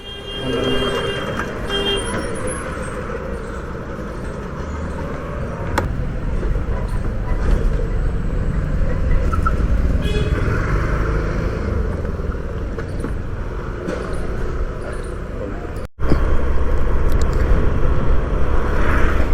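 A motorcycle carries a passenger on an Uber Moto ride through city traffic, with a continuous loud engine drone and wind rumble, passing vehicle noise, and a brief cut before the roar resumes louder.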